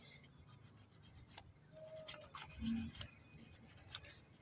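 A spin dryer part, the switch's contact point, being scrubbed clean by hand, producing quiet, close scratchy rubbing strokes in short irregular bursts, with no speech.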